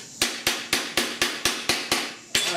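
A planishing hammer shapes metal for a custom A/C dash vent pod, striking sharply about every quarter second in a steady series of nine or so close, loud metallic blows, each ringing briefly before the next.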